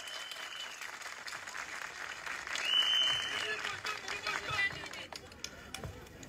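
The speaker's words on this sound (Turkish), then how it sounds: "Alkışlayın kendinizi." A crowd applauds at an open-air political rally in front of a cultural centre in Akhisar, a fairly distant, continuous patter of clapping with voices and a brief tone over it.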